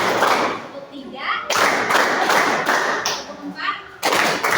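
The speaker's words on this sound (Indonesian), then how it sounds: "Ulangi, tepuk semangat." A classroom of students performs a rhythmic group clap in counted bursts, several loud broadband clap blocks separated by brief pauses, with children's voices mixed in.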